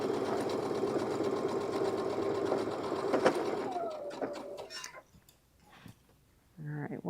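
A sewing machine runs steadily through a single seam on fabric, a continuous close mechanical hum that slows and stops partway, leaving quieter rustling and a brief final burst of motor noise.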